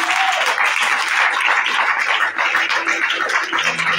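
Church congregation applauding to acclaim the Lord, a dense, loud, sustained burst of clapping from many hands, with a few voices mixed in.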